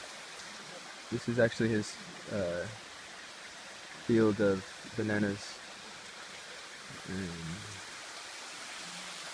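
A waterfall in Kalime, Togo, gives a faint, steady broadband rush in the distance while someone talks intermittently over it.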